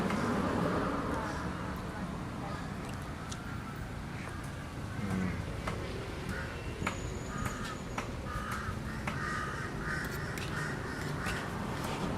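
Crows caw outdoors in a city park, with traffic and distant reversing beeps running beneath the calls.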